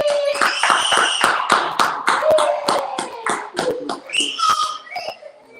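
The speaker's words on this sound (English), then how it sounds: "Go ahead, clap it up." A group of people clap at a men's brotherhood class, with sharp, close hand claps in a quick, uneven rhythm. Voices call out over the clapping.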